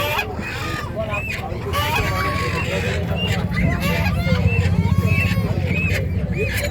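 Chickens at a crowded rural poultry market in Lonand, Maharashtra, clucking and squawking repeatedly over a dense background of chatter and crowd noise.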